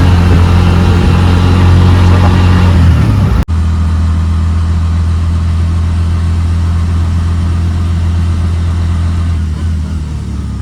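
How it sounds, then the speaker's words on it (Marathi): A bus travelling from Nigdi on a rainy day in the Konkan gives a loud, steady engine drone with road rumble. A sudden cut comes partway through, then the drone continues. "आता आपण बसलोय बस मध्ये"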